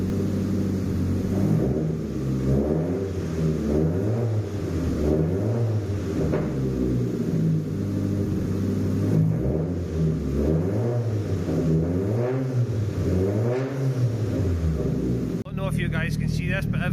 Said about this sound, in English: Just getting a couple of little burps out the exhaust.